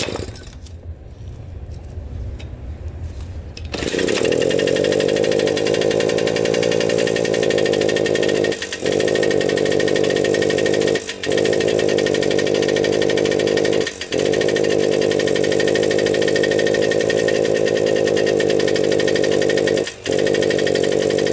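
A Suzuki JR50 dirt bike engine with a bogging problem starts after a kick and settles into a loud, steady two-stroke buzz close by. The engine dips briefly a few times as the throttle shifts.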